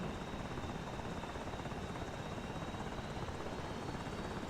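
A helicopter in a carrier operations video game thrums steadily and loudly, a dense, unchanging rotor and engine roar that fills the whole stretch without any voices.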